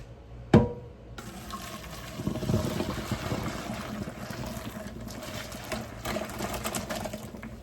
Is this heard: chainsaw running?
no